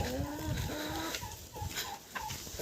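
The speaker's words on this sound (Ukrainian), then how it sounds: "О, Джозефінка несеться" A hen clucks repeatedly and rhythmically up close while laying an egg, a series of short throaty calls with a few rising squawks.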